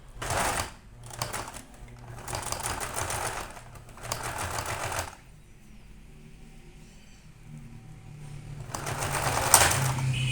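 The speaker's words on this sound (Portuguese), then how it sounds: "eu vou pra máquina e vou passar uma costura na volta inteira, exceto esse pedacinho aqui" Sewing machine running in three or four bursts as it stitches around a fabric donut-shaped baby teether, with quieter handling between runs and a final burst of stitching near the end.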